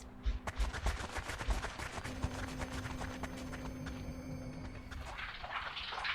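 Bursts of video game gunfire from XCOM: Art of War, a rapid string of sharp shots over a steady low hum, with a softer shift near the end.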